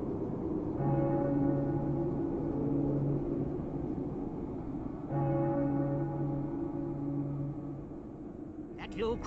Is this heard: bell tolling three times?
yes